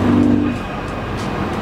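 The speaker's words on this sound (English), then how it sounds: "It definitely burbles more too." A stage one tuned BMW engine revving hard during a gear pull, a loud close droning roar that tapers off after half a second into a lower rumble.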